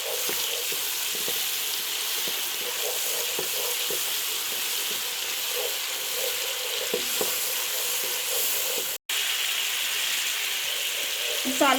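Spices roasting in a pan with a little water added, a loud, continuous sizzle filling the whole stretch, with faint scraping of a spoon now and then and one brief dropout near the end.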